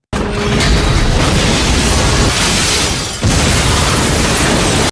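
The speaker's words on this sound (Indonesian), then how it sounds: "menyebabkan terjadi ledakan-ledakan yang cukup dahsyat." Loud, sustained rumbling blasts fill the whole stretch, a heavy roar of explosions in a film scene as a machine is destroyed, with a brief dip before another surge.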